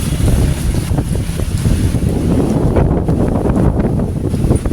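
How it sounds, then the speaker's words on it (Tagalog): Strong wind roars and buffets the microphone without letup, a loud, rumbling rush filling the whole stretch. "Malakas ang hangin."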